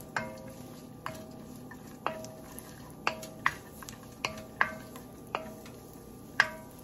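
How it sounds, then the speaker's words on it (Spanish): Bacon frying in a spoonful and a half of oil in a pan, close by with a steady low sizzle and sharp pops and crackles spaced roughly every half second, no voices. "vamos a agregar la tocineta y vamos a dejar sofreír por unos minutitos"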